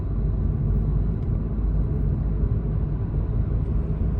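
Changan Eado car cruising through Riyadh city streets at night, a steady low engine and road rumble continuing evenly throughout with no talk.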